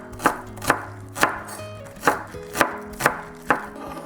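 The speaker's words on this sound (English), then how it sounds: "And cut into scallions." A knife chops scallions on a cutting board with seven crisp, evenly spaced thuds, heard close and clear with no voices.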